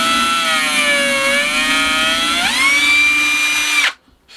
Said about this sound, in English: then we can pop a couple of screws in just to get them